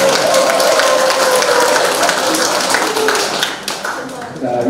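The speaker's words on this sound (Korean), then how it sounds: "다시 한번 박수 부탁드립니다" Steady, close applause from an audience fills a photographers' association special-photography division launch ceremony, with dense continuous clapping that thins slightly toward the end.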